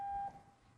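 A device sounds a single steady electronic beep lasting about a third of a second during a technical presentation, then fades into low room noise.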